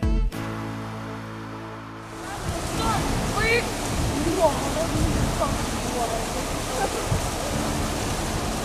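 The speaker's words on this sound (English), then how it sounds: "We just saw this waterfall on the side of the road" A roadside waterfall in North Cascades National Park gives a steady broadband rush of falling water, fairly loud and continuous, heard after a short burst of another sound at the start, with faint voices mixed in.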